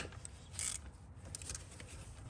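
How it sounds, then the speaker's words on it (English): A hand ratchet with a swivel socket clicks and turns on a valve cover bolt of a Toyota/Lexus 5.7L 3UR-FE engine, producing a few short metallic ratcheting bursts up close and fairly quiet. "I'm using a swivel now to break this free"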